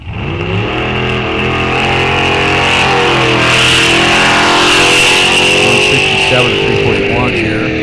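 Drag race car running at a test-and-tune day against a Mustang, a loud, close, sustained engine roar climbing in pitch as it accelerates, with a commentator talking over it.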